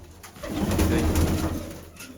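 Pigeons coo softly at close range, a low, throaty, rolling murmur that swells and fades over a couple of seconds in a home loft housing a nesting pair and chicks.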